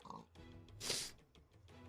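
A pig oinks in the Minecraft video game, a few short grunting calls under quiet talk, with a brief hiss in the middle.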